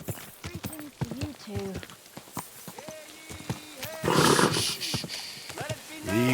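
Horse in the video game Kingdom Come: Deliverance II, with clopping hooves and a short whinny mixed among frequent speech, plus a louder burst of movement noise midway.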